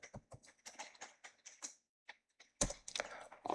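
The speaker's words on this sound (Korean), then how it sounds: "S키 눌러서" Light, irregular keystrokes tap on a computer keyboard nearby, then a denser flurry of clicks near the end in an otherwise quiet room.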